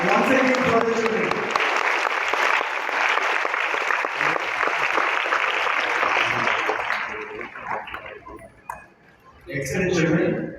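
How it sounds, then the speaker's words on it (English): Audience applause for children at a national Brainobrain competition, loud, sustained dense clapping filling the hall for about seven seconds, thinning out, then a fresh burst near the end. "Big round of applause once again for the children."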